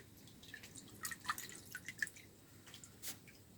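Soaked dandelion greens are drained for a Pennsylvania Dutch dandelion salad, with faint, scattered water drips and small trickles spread unevenly over a quiet background.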